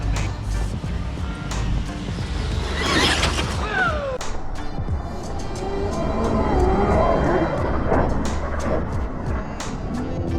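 Radio-controlled cars in a no-prep drag race for a cash prize, a steady loud engine roar with whines sweeping past through the middle and crowd noise underneath.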